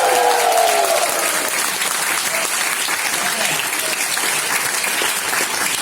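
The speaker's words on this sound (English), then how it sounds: "Make some noise, ladies and gentlemen!" A large crowd at a WWE question-and-answer event at the BT Centre claps and cheers loudly and continuously, a dense wash of applause with a few whoops rising early on.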